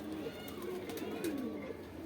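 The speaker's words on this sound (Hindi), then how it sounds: "ये देखें कबूतर आपको दोनों ही दिखा रहा हूँ, अच्छे हैं, बढ़िया हैं।" High-flying fancy pigeons in Saharanpur give faint, low coos, a few soft rising and falling calls over a quiet background hum.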